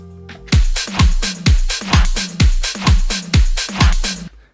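Programmed drum beat built in Ableton with a touch of reverb on a send: a steady, punchy kick-and-snare pattern with bright hits repeating about twice a second, each tail ringing briefly, loud and alone.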